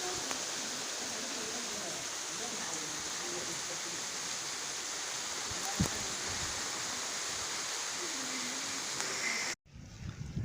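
Rain falling on trees in a farm field, a steady broad hiss of drops close by, continuous and even with a few brief knocks, before dropping away suddenly near the end.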